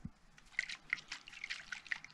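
Water sloshing inside a coconut: faint, irregular little splashes and drips repeat quietly through the short stretch, with no voices over them.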